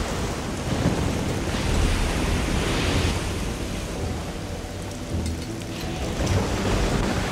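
Heavy rain pours steadily during a thunderstorm in the video game Risen 2, with low thunder rumbling through the dense, loud downpour for the whole stretch.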